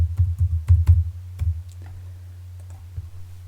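Sharp mouse clicks come in a quick cluster of five or six, then a few sparser clicks follow, close and distinct over a low steady hum.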